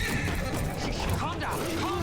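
A horse neighs with a loud, wavering whinny amid hoof clatter, while a person talks over the sound.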